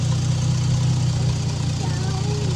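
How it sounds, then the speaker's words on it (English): A Toyota Supra engine idling steadily with a low, even hum, close and fairly loud, while someone talks over it. "The idle's good."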